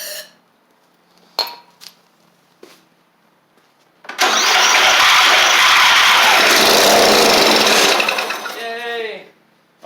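Murray 24 inch riding mower engine with the carburetor off, rust in the engine and water in the fuel, sputtering into a loud, rough run for about four seconds before dying away; a few clicks come first and a voice follows.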